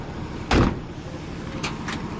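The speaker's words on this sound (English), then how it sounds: "Pop that trunk." A car trunk pops open with one sharp, close clunk, followed by a couple of faint clicks over quiet background hum and no voices.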